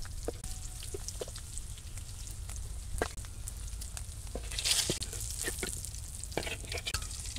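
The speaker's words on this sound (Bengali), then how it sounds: "তা আমি এক খোলা কাঁকরোল ভাজতে নিচ্ছি" Spiny gourd (kakrol) slices fry in an open pan in a village kitchen, giving a steady close sizzle with scattered crackles and pops and no talking.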